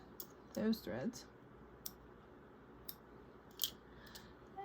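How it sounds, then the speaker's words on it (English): Scissors snip loose threads on a newly sewn fabric pocket, with a few quick close cuts early on and scattered faint clicks afterward over a quiet background, while someone speaks softly. "Oh, I forgot to cut those threads."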